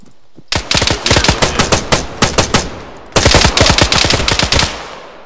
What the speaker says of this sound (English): I'm getting shot at again!